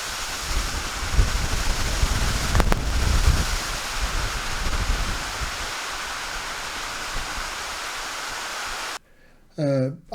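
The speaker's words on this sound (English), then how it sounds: "ambient noise in a very windy environment at the seashore" Strong seashore wind batters a camera microphone in a very windy coastal setting, a loud continuous rumbling roar with surf underneath, cutting out near the end as a voice briefly speaks.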